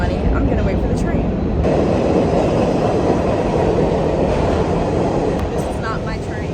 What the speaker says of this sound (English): the subway runs on limited service, so you have to wait like 20 minutes for a train